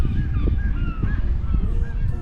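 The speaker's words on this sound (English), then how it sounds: "You can hear the birds squawking in the background." Seabirds squawking at Hamnøy, a fishing town in Lofoten, Norway, repeated honking calls over steady wind and outdoor rumble.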